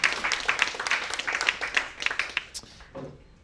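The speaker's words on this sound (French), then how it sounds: "Christophe, on peut t'applaudir." An audience at a morning conference event applauds a speaker, a dense burst of clapping from many hands that gradually thins and fades, with a voice briefly audible near the end.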